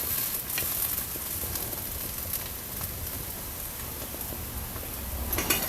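A breakfast dish frying in a pan, browned crisp on both sides, gives a steady close sizzle and crackle throughout with no talking.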